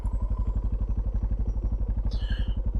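A dual sport motorcycle pushing through deep sand, its engine thumping in a fast, even pulse close by for the whole stretch, with a brief higher whine near the end.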